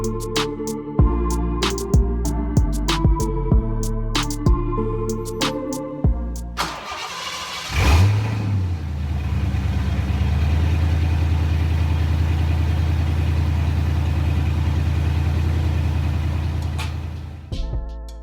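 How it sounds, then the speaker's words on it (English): A 1990 Ford Mustang GT, red with an original AOD automatic, cranks over and fires up after a few seconds of music, settling into a loud, steady idle with a brief rev at startup. "So this is my 1990 Ford Mustang GT."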